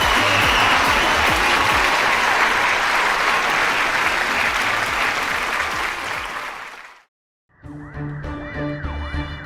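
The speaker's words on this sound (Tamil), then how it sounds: "ஒரு மிகப்பெரிய கைத்தட்டல்" Loud, sustained applause from a large audience fills the room after a dance performance, then cuts off into a brief silence before music resumes.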